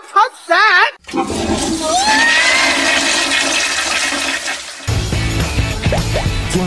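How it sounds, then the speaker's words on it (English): A toilet flushes loudly and close, a long rushing, gurgling swirl of water that runs for several seconds, with a brief voice just before and voices talking over the end. "Flushed away."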